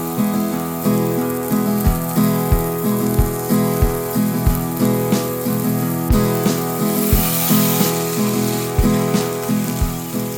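Burgers sizzling and frying in a pan, a loud continuous crackling hiss with regular soft thumps and clinks repeating every second or so, music playing underneath.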